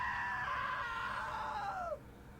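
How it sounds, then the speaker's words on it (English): A woman's long, loud scream in the video game What Remains of Edith Finch, sustained and then sliding downward before cutting off sharply, leaving a quiet background hum. "Now that was a great scream."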